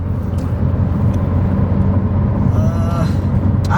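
Steady low drone of a BMW F10 M5 Competition engine and road roar while driving, loud and continuous throughout, with brief faint higher tones near the end and some voice-like sound mixed in.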